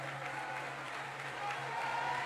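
A ceremony audience, gathered for a new culture minister taking office, claps continuously from a distance with a steady, moderately faint wash of applause and some crowd murmur underneath.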